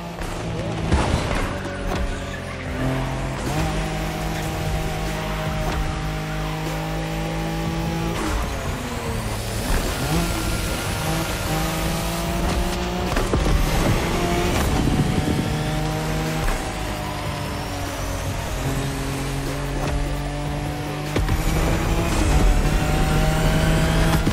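A Nissan Skyline races at speed in the video game The Crew Motorfest, its engine a loud, sustained roar with rising and shifting revs, up close throughout.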